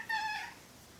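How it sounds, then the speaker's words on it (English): A pet cat gives a single short, clear meow close by at floor level, followed by quiet room tone. "there is a cat at my feet. Yes, you can hear him. He will probably be meowing."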